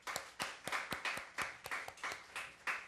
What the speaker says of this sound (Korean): 이럴 땐 격려의 박수도 필요한 것 같아요.